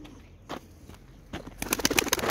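Pet pigeons coo in short throaty bursts, sparse at first, then building into a dense, close run of coos and bird calls.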